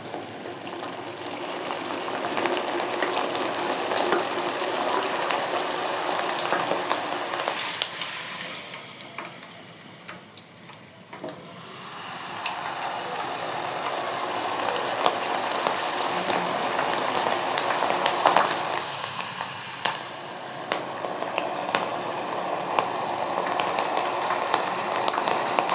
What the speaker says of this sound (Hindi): अब हमने ऑयल में इस तरह से दाल को डिप कर लेना है।